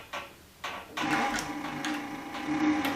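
A Cowboy CB3200 leather sewing machine with a servo motor stitches a leather belt slowly, giving a few separate mechanical thumps before settling into a steady close run.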